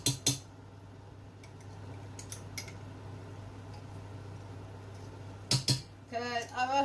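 A metal teaspoon clinks sharply a few times against a pot or tin while adding chopped tomatoes, two bright taps at the start and another pair near the end, with a low steady hum beneath.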